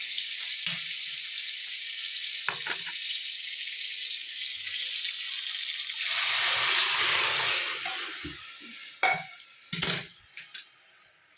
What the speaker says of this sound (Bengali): টমেটোগুলো নরম হয়ে গেছে। এই যে ডালটা দিয়ে দেবো।